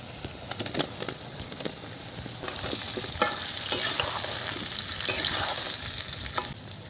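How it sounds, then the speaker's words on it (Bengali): Potatoes frying with partly browned onions, bay leaf and cumin in a pan, a close, steady sizzle broken by scraping stirs and clustered crackling bursts, with no voices. "পেঁয়াজ কিছুটা ভেজে নিয়েছি, দিয়ে দেবো এবারে আলু"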